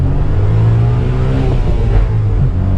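A Japanese kei sports car's small engine revs hard under acceleration, a loud, close, continuous buzzing drone that holds steady for a few seconds with no talk.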